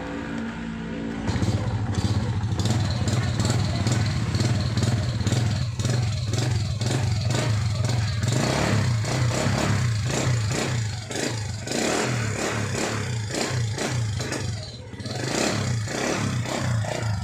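A Honda Wave 100 motorcycle starts up and keeps running steadily, close and loud, its engine chugging with a rapid even beat and brief revs, no talking over it.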